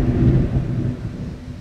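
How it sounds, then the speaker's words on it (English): Low, rolling thunder rumbles through a storm over a golf course, a heavy sustained roll that slowly fades over a second and a half with no talking. "if you heard that thunder in the back"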